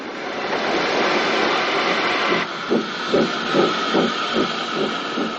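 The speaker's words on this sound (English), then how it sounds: "here Hallen draws a rake of three more engines out of the large motive power depot, especially for Ivor's benefit." A steam locomotive drawing a rake of three engines out of a large motive power depot, with a loud steady hiss and then a rhythmic chuffing exhaust that builds in regular beats.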